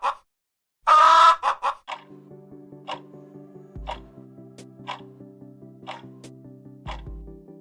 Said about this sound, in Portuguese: Nada menos que um galo.